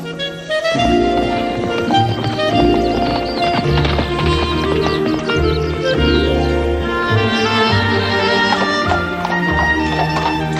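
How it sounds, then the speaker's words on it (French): Steady hoof clip-clop of a horse carries through a dense, loud layer of orchestral music that plays continuously throughout. "C'est un très bon cheval."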